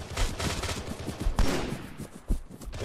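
Gunfire in a tactical shooter video game, a burst of rapid cracking shots close by with a couple of louder single reports near the middle and end.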